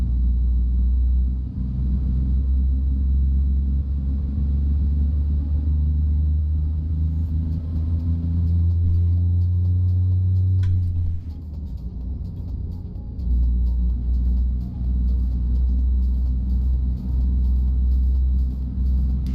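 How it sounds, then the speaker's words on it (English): Heavy, continuous low engine rumble fills a truck cab in a trucking video game, rising in pitch as the engine revs, then settling back into a steady drone. "This truck's got some cabin noise"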